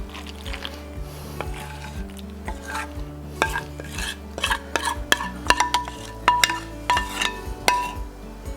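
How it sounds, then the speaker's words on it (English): Sauce being stirred into crawfish mac and cheese in a pot, a close rhythmic scraping and clinking of a spoon against metal, with louder knocks toward the end. "A little bit at a time, and just stir that around like this."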